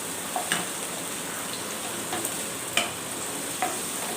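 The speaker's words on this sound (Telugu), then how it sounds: "ఈ పచ్చిమిర్చి కొంచెం మనకి మెత్తబడేదాకా వేయించుకుందాము." Green chillies and a large onion half frying in a pan for an Andhra-style methala curry, a steady close sizzle with a few sharp pops and stirring clicks scattered throughout, no talking.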